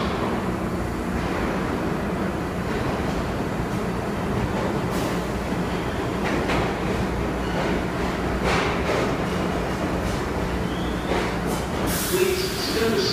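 An IRT Eastern Parkway line subway train, R62 and R142/A cars, rumbling at Crown Heights–Utica Avenue station, a constant loud roar with clanks and squeals, and voices faintly underneath.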